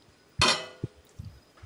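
A metal lid lands on a cooking pot of meat simmering in broth, one sharp clanking strike with a brief ringing tail, followed by a few soft knocks.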